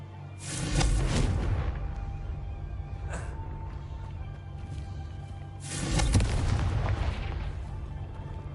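Confringo blasting spell explosions in the video game Hogwarts Legacy, two heavy booming blasts a few seconds apart, each trailing into a rumbling decay, with a small pop between them.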